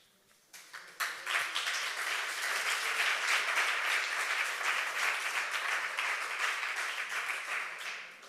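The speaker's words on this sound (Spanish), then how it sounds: "esos aplausos tienen que ser para Senegas" An audience at a museum talk on serious advanced illness in education breaks into sustained, dense applause that swells after a quiet start and holds steady to the end.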